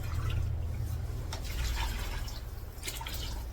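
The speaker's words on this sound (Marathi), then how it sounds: "ते मी गरम पाणी बघा तांब्याने टाकते" Hot water is poured from a small tumbler into a cooking pot while making kheer, giving a steady, fairly quiet liquid pour over a low background hum.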